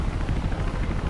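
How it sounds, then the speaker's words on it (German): A helicopter hovers overhead in the video game Mirror's Edge, a dense, steady rotor rumble filling the short stretch with no speech. "Er wird wahrscheinlich abgesetzt vom Helikopter gerade da oben."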